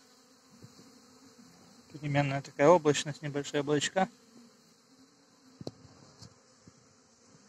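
A soft, steady insect buzz of honeybees flying out on a calm, sunny spring day hums throughout, with someone speaking over it for a couple of seconds in the middle.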